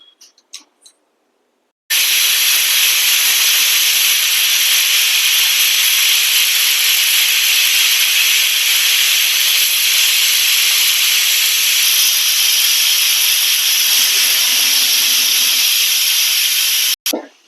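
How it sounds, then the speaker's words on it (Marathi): A pressure cooker on a gas stove, cooking mutton for a rassa curry, lets out one long, loud, steady steam whistle lasting about fifteen seconds, then cuts off abruptly. "आता याला 2 शिट्ट्या करून घेते मी."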